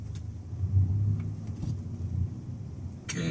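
Stock VW Scirocco 2.0 TSI with 210 hp driving slowly through a neighborhood, a low steady engine rumble heard from inside the car that swells gently, then a brief brighter noise at the end.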